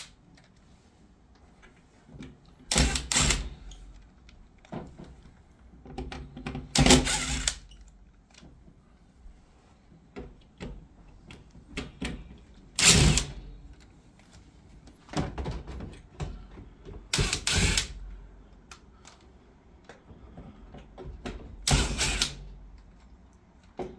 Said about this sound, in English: Now I'm going to go ahead and take these screws out.